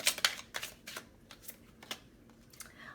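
Tarot cards are shuffled and riffled during a love reading, giving a series of quick papery bursts and flicks, some close together and some spaced apart, fairly quiet with no talking.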